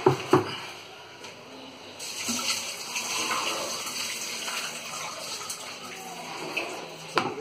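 Hot water being drained off chopped beetroot, a continuous soft trickling and gushing stream of moderate, fairly even loudness with a couple of small clatters near the start and end.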